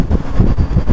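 Steady broadband wind rushing through the open windows of a Kenworth truck cab, W990 or W900, a loud continuous buffeting roar with low rumble and no voices.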